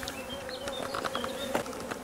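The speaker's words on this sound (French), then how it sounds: "tiens, naissance d'une abeille" Honeybees buzz softly around a hive frame as a young bee emerges from its cell, a faint, close, continuous droning with small pitch wobbles.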